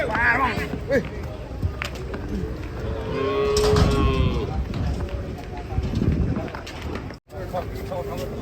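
Cattle moo loudly nearby, one long low call standing out, amid a busy outdoor scene with people talking and shuffling around.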